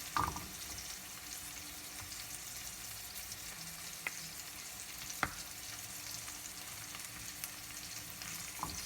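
Two tablespoons of butter melt over heat in a pan for a sauce, giving a soft, steady sizzle throughout with a few faint clinks, quiet and unaccompanied by speech.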